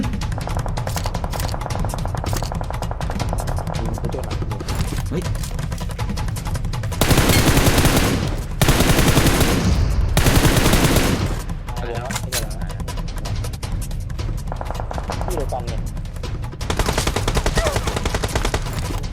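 Rapid bursts of gunfire in PUBG Mobile rattle continuously, with louder, heavier volleys in the middle, while a voice talks intermittently underneath.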